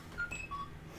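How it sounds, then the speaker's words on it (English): A phone notification plays a string of quick electronic chirps that jump between pitches like R2-D2, faint and brief over a low background hum. "that was my phone. Did you hear that?"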